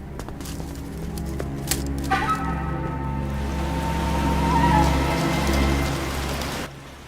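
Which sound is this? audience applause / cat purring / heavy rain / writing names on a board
heavy rain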